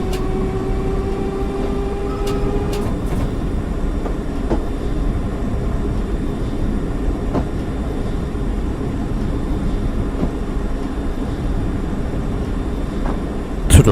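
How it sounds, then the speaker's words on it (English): Another train passes the cab on the East London Line in 1990, a steady rumbling roar with wheel clatter held close for the whole stretch, and a sharp burst of noise at the very end. "We are now just passing a train that has started at New Cross Gate."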